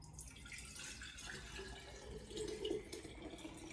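Coconut water pours through a little strainer in a steady, close trickle with a slight splashing swell partway through.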